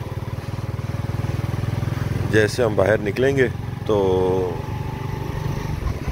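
A motorcycle ridden slowly through heavy fog at around 20 km/h, its engine giving a steady, close, droning hum throughout while the rider talks over it for a few seconds.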